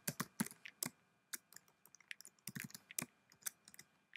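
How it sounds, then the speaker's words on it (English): Computer keyboard typing in a quiet room, a rapid uneven stream of soft close key clicks with a few sharper taps scattered throughout. "Let me type the text, hello world"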